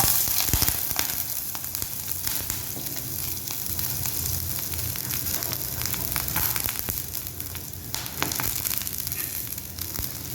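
Chicken rolls frying in hot oil sizzle steadily and close up, a continuous crackling hiss with scattered sharper pops and spatters throughout, with no talking.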